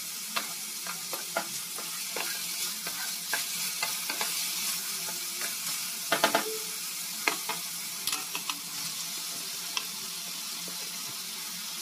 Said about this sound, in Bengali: আবার একটু নাড়াচাড়া করে নিচ্ছি, মানে একটু ভেজে নিচ্ছি এটা হালকা করে